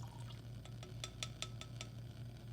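About 80 milliliters of water poured into a lab beaker, a soft trickle with a few brief splashy glassy taps, faint and close, over a steady low hum.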